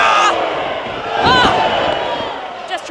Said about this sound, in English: The crowd is up for Cassie Lee.